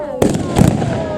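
An MP40 Schmeisser submachine gun fires at an outdoor WWII battle reenactment, two sharp loud bursts about a third of a second apart, each with a short rolling echo, over steady crowd murmur and a faint background voice.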